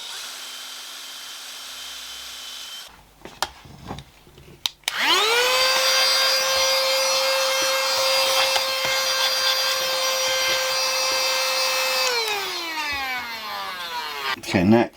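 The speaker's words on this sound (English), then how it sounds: "the first thing I would like to do is drill a hole in it at the bottom" An electric drill bores a hole into the bottom of a Bluetooth speaker casing. A few short taps come first, then a steady, loud, close high whine that holds for about seven seconds before winding down, with no one talking.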